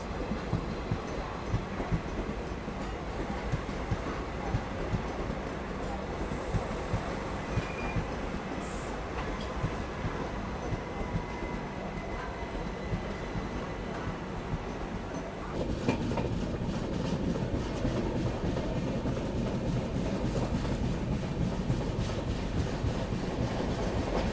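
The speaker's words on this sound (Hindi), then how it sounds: "कल्याण शेड का सावंतवाड़ी दादर तुतारी एक्सप्रेस।" Sawantwadi–Dadar Tutari Express hauled by a Kalyan-shed locomotive running along the line, a steady close rumble with faint clickety-clack and a brief high squeal, the roar growing heavier in the second half.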